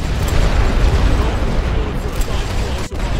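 A loud, sustained explosive rumble fills the scene as a tank shells a mortar position in a WWI strategy game on the Western Front at Verdun, with a continuous booming roar that cuts off sharply near the end.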